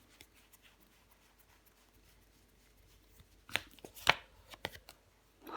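A tarot card laid down over the eight of swords: a quiet stretch, then a few close, soft card slaps and slides in quick succession near the end.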